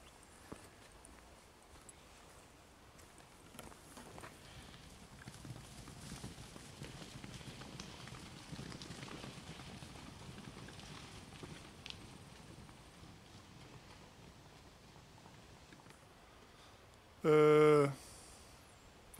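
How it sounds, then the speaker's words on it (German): Faint outdoor ambience in a valley beside the river Bille, with soft hoof-like steps of horses in the distance, followed by a brief loud burst near the end. "Tolle Pferde."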